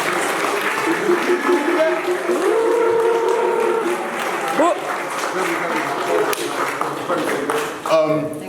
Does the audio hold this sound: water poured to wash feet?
no